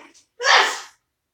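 A single sharp sneeze bursts out close to the microphone after a faint short intake of breath, then silence follows.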